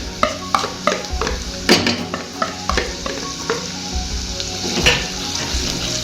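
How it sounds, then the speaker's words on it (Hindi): Chopped onions sauté in a small pot, giving a steady close sizzle under repeated clinks and scrapes of a spoon stirring against the metal. "अब हम इसमें अपनी चॉप की हुई प्याज डालेंगे, उसको थोड़ा सा सौते करेंगे फ्राई"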